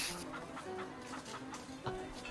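A flock of chickens clucks as a tabletop role-playing game sound effect, soft, busy overlapping clucks and squawks at low volume for a couple of seconds.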